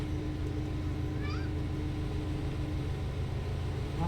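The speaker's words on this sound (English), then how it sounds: "Oh, Kitty wants attention" A house cat gives a short meow for attention, heard once near the middle over a steady low background hum.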